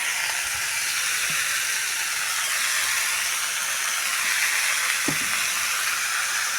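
Chopped vegetables and a spoonful of turmeric sizzle steadily in a hot pan: a continuous bright hiss with a couple of soft knocks near the end, and no talking.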